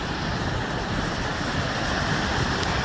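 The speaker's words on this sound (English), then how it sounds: "There's the waterfall." Steady broadband rush of Feather Falls waterfall running strong after recent rains, heard from a trail near a bridge, continuous and even with a windy, surf-like wash and no voices.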